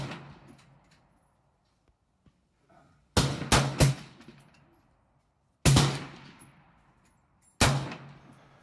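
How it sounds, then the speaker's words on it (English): Four sharp, loud AR rifle shots ring out on an outdoor shooting range, the second a quick double, each followed by a fading echo and separated by quiet pauses. "check this clip out with the AR, the first time he ever shot it"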